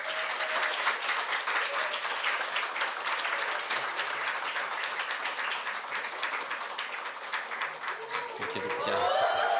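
Church congregation applauds to welcome a pastor to the pulpit, a full continuous wash of clapping that holds steady, with a voice speaking over it near the end.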